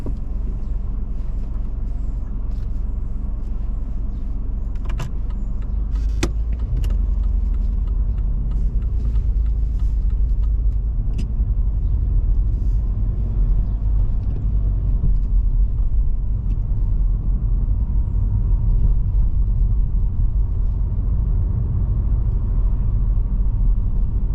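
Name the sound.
car driving off during driving test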